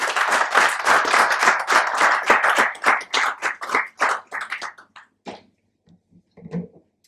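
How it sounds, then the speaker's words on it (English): An audience at a seminar claps for a speaker: brisk, dense clapping at first that thins to scattered individual claps and dies away. "can we applaud him, please?"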